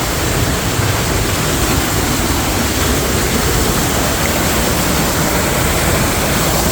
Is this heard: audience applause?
no